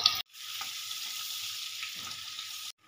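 Butter dropped into hot mustard oil in a wok, a steady, fairly quiet sizzle and crackle that runs on after a sharp start.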